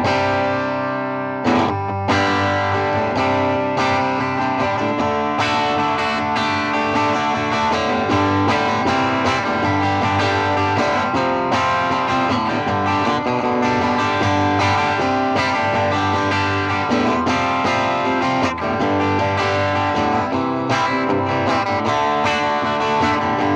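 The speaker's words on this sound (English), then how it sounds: "Here's with the tube screamer engaged." Electric guitar through an Ibanez TSA5TVR Tube Screamer amplifier with the Tube Screamer engaged, playing loud, steady overdriven chords and notes with sustained distortion and a short pause near the start.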